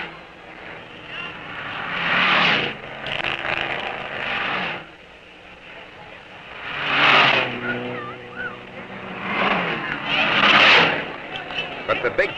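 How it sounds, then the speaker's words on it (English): Stock cars in the 1954 Carrera Panamericana road race roar past in several separate swells, each engine rising loud and close then fading, with crowd and announcer voices between the passes. "More stock cars roar across the line."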